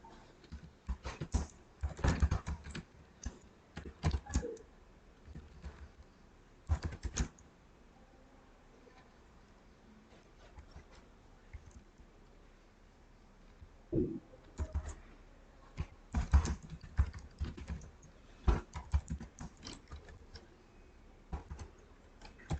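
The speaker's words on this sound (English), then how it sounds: "So typing some text." Bursts of rapid, light key clicks as text is typed on a computer keyboard, close and fairly quiet, separated by brief pauses.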